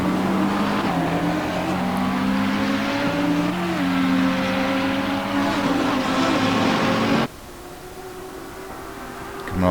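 McLaren 650S GT3 and Audi GT3 race cars working through the Villeneuve chicane at Circuit Zolder, engines droning and shifting pitch as they brake and accelerate, loud and close before cutting away abruptly near the end.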